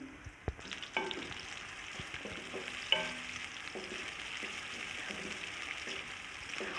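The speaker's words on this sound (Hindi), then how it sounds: "प्याज डाल दूँगी और प्याज को गोल्डन सा फ्राई मैं कर लूँगी" Sliced onions fry in ghee for chana biryani, giving a soft, continuous sizzle with occasional clicks and knocks from stirring, quiet and close.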